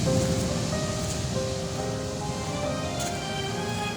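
Tropical storm surf rolling near a beach hut by a construction site, a continuous loud wash of breaking waves and wind noise close at hand, with no talk.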